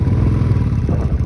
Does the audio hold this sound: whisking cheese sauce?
no